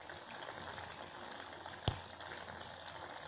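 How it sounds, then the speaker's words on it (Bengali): Maggi instant noodles simmering in tomato soup in a pot, giving a quiet, steady bubbling hiss with one brief louder pop partway through, and no voices. "আমরা ম্যাগিটাকে এইভাবে কিছুক্ষণ ফুটিয়ে নেব"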